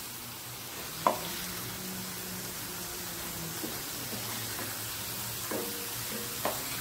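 Mackerel fries in a curry leaf masala, a steady soft sizzle and crackle in the pan, punctuated by a few sharp scraping clinks as the fish is stirred and moved.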